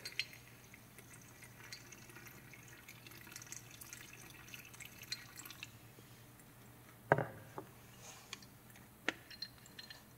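Faint trickling and dripping of matcha mint toner poured through a coffee filter, quiet and steady, with a few small splashy clicks standing out near the end.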